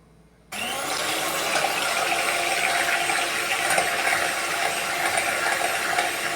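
An electric hand mixer beats eggs with vanilla essence for cake rusk batter, starting abruptly and running as a loud, steady whirring buzz for several seconds with no talking.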